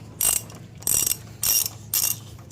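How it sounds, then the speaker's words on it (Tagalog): A 1/2-inch drive ratchet works a 12mm bolt loose on a Yamaha Nmax scooter, giving four quick bursts of close, crisp clicking at an even pace, with short pauses between strokes. "Gamit ko na rin yung yung 1/2 drive na ratchet para pagluwag dito"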